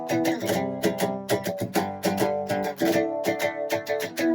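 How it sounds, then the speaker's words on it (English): Strummed chords play a verse progression at a brisk tempo of about 185, with rhythmic repeated attacks and shifting harmonies, close and alone without talk. "the verse progression would sound something like this."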